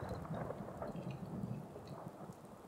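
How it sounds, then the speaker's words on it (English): Pouring rain in Fallout 4 hisses steadily over the whole stretch, dense and even, with a low rumble like distant thunder underneath. "I'm just going to leave them out in the pouring rain"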